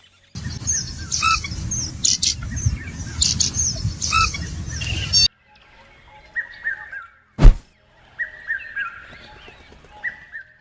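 Busy chirping and squawking from birds at first over a noisy background, then quieter scattered tweets with a single sharp thump between them.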